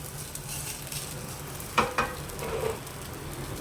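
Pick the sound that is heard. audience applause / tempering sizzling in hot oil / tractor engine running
tempering sizzling in hot oil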